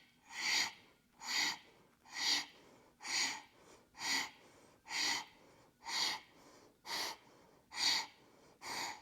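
Ten slow, rhythmic breathy exhalations in a yoga hip-opening stretch, each a soft airy whoosh about a second long with short pauses between, close and steady, no talking.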